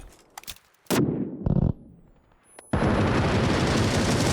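Bursts of gunfire in the video game PUBG crack and boom in quick shots, followed by a sustained loud rattle of continuous firing.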